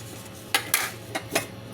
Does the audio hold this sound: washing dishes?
yes